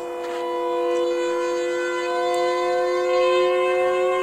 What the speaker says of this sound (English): Is that a warning siren? Where could that be coming from?